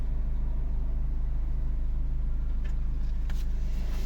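A 2011 Volvo V50 R-Design with the 1.6 D2 diesel settles into a steady, even idle, its low rumble close and continuous, with no voices.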